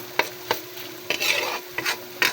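Food for a chicken broccoli dish stirred in a pan with crushed pepper added, several quick spatula scrapes and knocks over a light sizzle, close and fairly loud.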